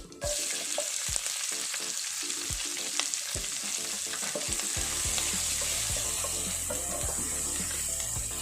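Green chilies and onions frying in a pan for a home-style tamarind curry give a continuous close sizzle with sharp clicks of a spoon and stirring throughout.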